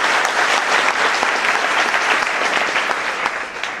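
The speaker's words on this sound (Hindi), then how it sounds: "एक बार तालियां तो बजाओ अपने लिए" Loud, sustained applause from a large audience at an anti-firecracker campaign talk, thick continuous clapping filling the whole stretch with no one speaking.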